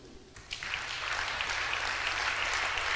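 Audience applause and cheering greet a reverend prophet called to the podium as speaker, a dense, steady wash of clapping that swells in after a brief quieter start and holds loud to the end.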